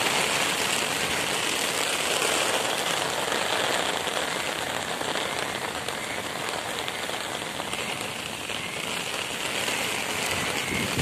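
Heavy rain pours steadily in Swabi, Pakistan, a dense, continuous hiss of water striking surfaces, loud and unbroken throughout with no voices.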